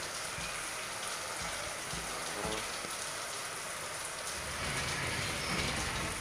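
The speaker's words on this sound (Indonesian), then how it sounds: "Videonya pas lagi hujan." Steady rain falls for several seconds, a dense, even hiss of drops pattering on a surface, loud and close, with no voices.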